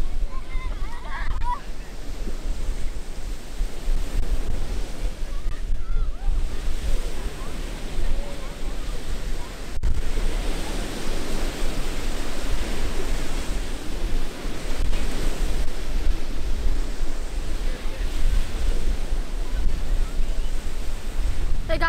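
Ocean waves rolling onto a beach in Jeju, a continuous broad wash of surf mixed with gusting wind noise on the microphone, loud and close, with no clear talk.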